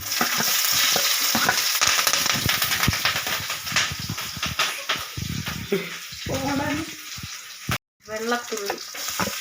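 Green chillies fry in hot oil with mustard seeds for a Kerala-style banana flower thoran, a loud crackling sizzle broken by repeated scraping stirs of a spoon in the pan, with the frying fading toward the end.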